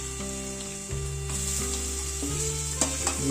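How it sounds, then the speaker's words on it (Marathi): Onion hits a hot tempering of spices in a pan for a Konkani onion curry, crackling into a loud, bright sizzle with stirring clatter and a low steady hum underneath. "आता या झकास फोडणीमध्ये आपल्याला कांदा घालायचा आहे"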